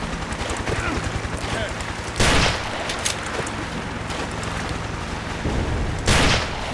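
Gunfire from a secondary weapon in the blocky first-person shooter game Ace of Spades, a few sharp loud shots standing out over a steady game background with other noise between them.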